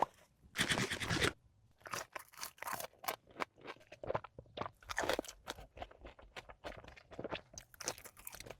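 Close, intimate crunching and chewing while eating Raising Cane's fried chicken meal, with a loud crisp bite near the start followed by irregular smaller crunches, munching and mouth sounds and no talking.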